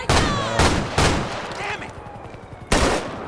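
Gunfire in GTA 5 with the LSPDFR police mod, near Los Angeles Airport west of a runway: several sharp, loud bursts of shots in quick succession, with a short lull before a final blast.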